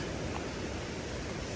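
A river swollen by rain rushes beneath a wilderness bridge near a confluence, making a loud, continuous roar with no breaks and no voices.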